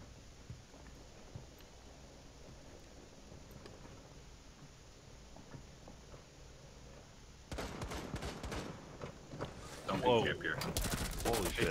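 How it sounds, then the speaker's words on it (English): Gunfire in Rainbow Six Siege, on a bank map in hostage mode: after a quiet stretch of low game ambience, sharp bursts of shots and clatter break out and grow louder toward the end. "If he doesn't notice me, I'll shoot him in the back."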